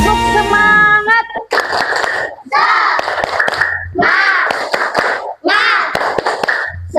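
Children in a classroom perform a rhythmic spirit clapping chant, several short bursts of unison voices punctuated by sharp claps in a steady beat, loud and close, after a brief adult voice.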